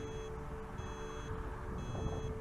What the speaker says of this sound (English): And now it will annoyingly beep as it makes its way back home